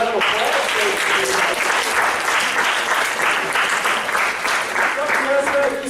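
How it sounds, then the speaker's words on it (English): A lecture audience gives a sustained round of applause, dense clapping from many hands filling the room at steady loudness for several seconds, with a voice faintly audible underneath near the end. "let's give Dr. Yazbek a round of applause."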